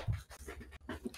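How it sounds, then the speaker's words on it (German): A dog in Minecraft pants in quick, breathy bursts, close and fairly loud, with no talking over it. "Was ist der Hund auch so doof und greift mich an?"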